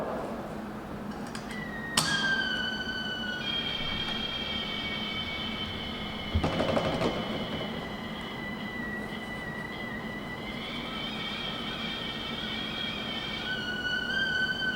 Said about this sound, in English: the whistle is the same whistle that you'd hear if this was boiling water